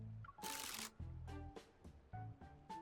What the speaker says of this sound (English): Why are these shutter sounds getting more chaotic?